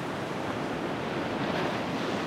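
Big ocean waves break on a surf beach at Sassandra, a continuous dense roar of surf with steady rushing wash and wind, loud and unbroken, with no voices.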